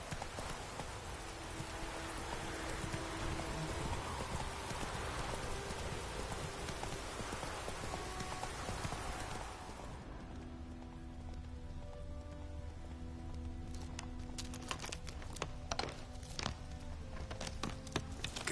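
A horse gallops through rain in the video game The Witcher 3, steady rain hiss giving way to quicker rhythmic hoof clops that continue alone without talk.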